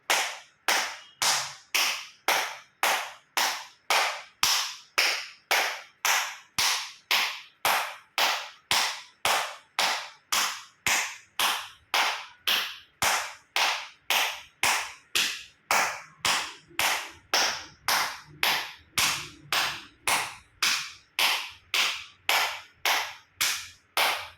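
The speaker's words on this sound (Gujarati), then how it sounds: "એક્યુપ્રેશર તાળી જોરથી પૂરેપૂરી હથેળી આંગળીઓ બધું ટચ થાય એ રીતે 50 વખત તાળી આપીશું" A person performs loud acupressure hand clapping in a yoga routine, striking full palms and fingers together about fifty times in a fast, even rhythm of sharp, close claps with no talking.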